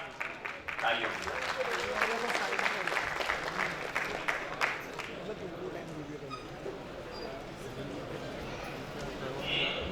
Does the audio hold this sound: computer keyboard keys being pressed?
no